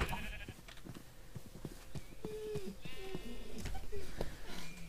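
Sheep bleat in Minecraft, several short wavering calls scattered through busy game sounds, moderately quiet, with a player's voice talking throughout.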